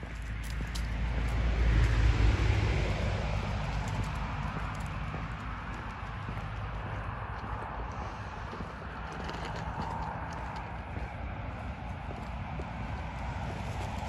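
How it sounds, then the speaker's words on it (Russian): Horse hooves clip-clopping on a street in Germany, a faint irregular patter of steps at a distance under wind noise on the microphone, with no talk. "Старенькая лошадка вот эта."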